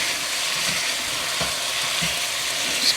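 Ground meat browning in a pan for a Philly cheesesteak casserole, giving a steady broadband sizzle with occasional soft scrapes of stirring, close and alone without talk.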